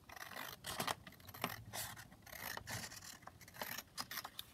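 Scissors snip through a paper envelope flap in quick, uneven cuts with crisp scraping strokes, close and fairly quiet, with no voices.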